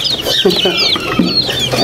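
Several turkeys gobble and cluck loudly at close range in quick overlapping bursts, with no talking.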